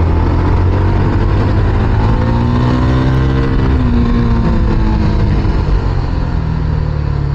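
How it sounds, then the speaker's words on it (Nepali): A tractor hauling an uncovered load of soil passes close by on a dry, dusty road, its engine a loud, steady droning chug that shifts in pitch as it goes. "ट्र्याक्टरमा भएको माटोहरू त छोपेर लानुपर्ने होइन र?"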